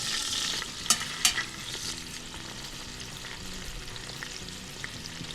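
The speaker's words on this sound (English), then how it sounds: "So let's get these flipped over here." Steaks sizzle in an Instant Pot as they are flipped, a steady close frying hiss broken by a few sharp scrapes and clanks near the start, with no talk.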